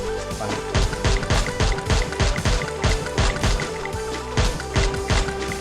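A rapid string of loud unsuppressed video game gunshots fires in quick succession, punchy low booms repeating in steady bursts with no talking.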